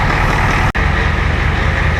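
A 1990 Ford F350 with the 7.3 IDI diesel idling, a steady loud rumbling clatter close by, with one brief dropout partway through.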